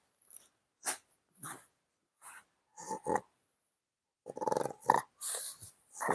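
A dog close by makes a series of short growls, snorts and breathy rumbles in separate bursts, clustering more densely toward the end, with no talking.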